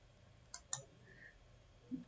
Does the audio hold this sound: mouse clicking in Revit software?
yes